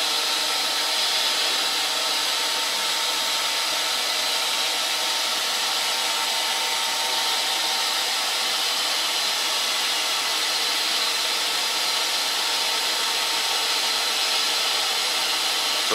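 An Arduino-controlled CNC lathe cuts a profile with a steady high-pitched whine and hiss that holds constant and close-up throughout, with no speech.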